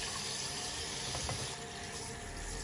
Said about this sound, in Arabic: والسمكة اسم الله مثل الثلج عم نغسلها